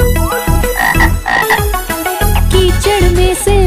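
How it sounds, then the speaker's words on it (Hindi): A frog croaks repeatedly in a lively Hindi children's nursery rhyme about rain and puddles. The loud, rhythmic croaks sit over bright backing music. "कीचड़ में से मेंढक निकला मेंढक के साथ चले हम।"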